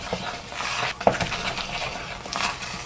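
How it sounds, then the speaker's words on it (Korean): A pot of Korean seasoning sauce being stirred as it comes to a boil on the stove, with soft scraping and light clinks of the utensil against the pot and a bubbling hiss underneath. "이렇게 해서 저어주면서요. 한 번만 폭폭 끓여주겠습니다."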